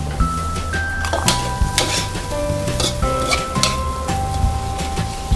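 Kale stir-fried with instant fried rice seasoning powder sizzles steadily in a hot pan while a utensil scrapes and clatters in an irregular rhythm, with light tonal music underneath.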